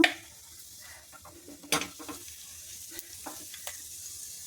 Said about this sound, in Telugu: ఆయిల్ వేడైంది ఇప్పుడు జీలకర్రను కొంచెం ఆవాలు వేసుకుందాము